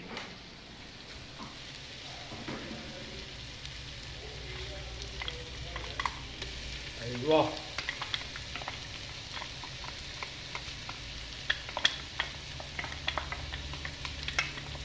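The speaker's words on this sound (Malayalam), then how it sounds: "ഇഞ്ചി വെളുത്തുള്ളി പേസ്റ്റാണ്ട് മിക്സ് ചെയ്താൽ അടിച്ച് പൊളിയായിരിക്കും മക്കളെ ഇത് നന്നായിട്ട് നമ്മൾ മിക്സ് ചെയ്യണം" Ginger garlic paste being mixed and fried in a pan for chicken roast, giving a soft continuous sizzle with scattered scraping and clinking from the spoon, fairly quiet and without talk.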